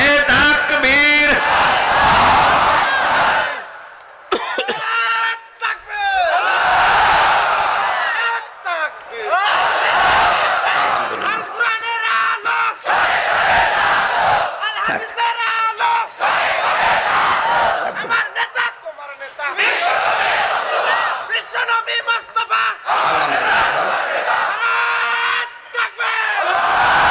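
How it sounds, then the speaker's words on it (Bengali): A large crowd at a religious sermon chants the takbir in unison, loud roaring shouts repeating in regular waves every few seconds, with brief pauses between each collective cry. "জবান খুলে পড়েন লিল্লাহে তাকবীর"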